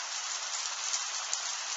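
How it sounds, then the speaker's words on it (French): Very heavy hail pours down during a storm with wind in Tour-en-Sologne, a dense, even hiss of countless impacts with a few sharper hits standing out. "Très forte grêle"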